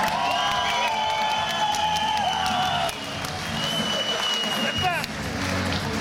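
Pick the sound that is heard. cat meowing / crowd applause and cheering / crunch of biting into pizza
crowd applause and cheering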